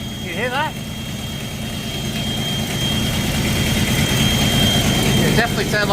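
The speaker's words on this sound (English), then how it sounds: "Definitely sounds like a vacuum leak." A Ford Falcon XB GS Hardtop engine idles high and steady with a vacuum leak, a continuous low rumble under a thin constant whine, close by; brief talk is heard near the start and end.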